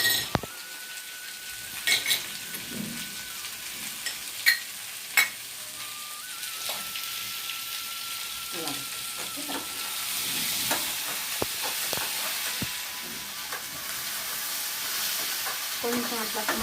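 Sliced okra (bendakaya) fries in a pan with a soft, steady sizzle for over fifteen seconds, broken by a few sharp clinks and scrapes of a utensil stirring against the metal.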